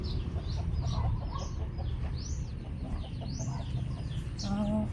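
Chickens cluck and chirp steadily over a dense, noisy farmyard background, with a brief higher call near the end.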